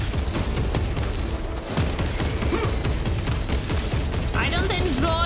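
Dense, rapid gunfire from aliens in the Space Marine 2 video game, a nonstop barrage of close, loud bursts, with chirping creature-like tones rising near the end.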